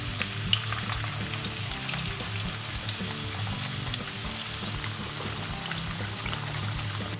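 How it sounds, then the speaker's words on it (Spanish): Potatoes frying in plenty of hot oil for a vegan moussaka, a steady, dense crackling sizzle that holds evenly throughout with faint pops and no voices. "Mientras que freímos las patatas"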